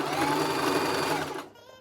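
A sewing machine runs steadily at a fast, even whir, close and fairly loud, then slows and drops off near the end, while altering trousers at home.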